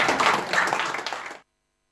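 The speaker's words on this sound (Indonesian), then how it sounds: "Tepuk tangan, tepuk tangan." A burst of clapping and applause from a crowd, fairly loud and steady, cutting off abruptly after about a second and a half.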